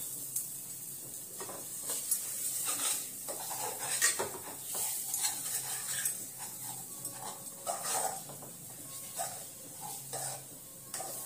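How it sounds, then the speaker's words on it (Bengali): Food for dhokar dalna is stirred in a cooking pot, with soft sizzling under repeated scraping and clinking of a utensil against the pot. The sound is close but fairly quiet, with no talking. "দিয়ে ভালো করে নাড়িয়ে নেব।"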